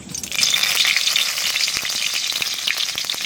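Dried red chilies and bay leaves frying in hot oil for a country chicken curry, giving a steady, loud, dense sizzle with a few faint crackles and ticks, heard alone with no voices.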